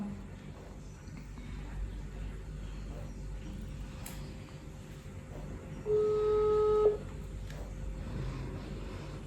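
A single steady ringback tone sounds for about a second over faint background hiss as an outgoing phone call connects.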